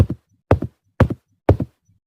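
Animated goat hooves walk away in a steady, even rhythm, four clear double-tap hoofbeats about half a second apart, crisp and close against silence, each followed by a faint softer tap.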